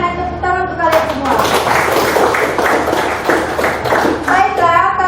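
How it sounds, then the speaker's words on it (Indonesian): A classroom of schoolchildren claps together in a steady burst of applause lasting several seconds, with children's voices chattering around and over the clapping. "tepuk tangan untuk kalian semua"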